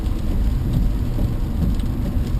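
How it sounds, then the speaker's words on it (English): Steady rain falls as a dense, even hiss with a low rumble from a vehicle driving near Lake of the Woods during a storm chase, loud and continuous without voices. "The rain is coming down steady, so we are getting closer to the storm."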